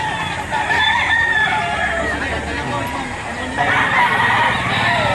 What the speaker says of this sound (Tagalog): Pero mapapansin nyo, napakarami pa rin manok.